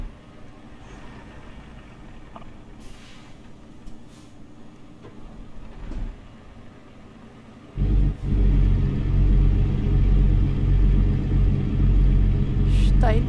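A virtual truck engine in American Truck Simulator hauling a log chipper idles with a low rumble, then revs up sharply into a loud, sustained heavy drone while players chat over it.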